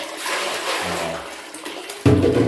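Water runs steadily from a faucet into a tank, splashing and gurgling, then swells abruptly louder near the end as the flow strengthens.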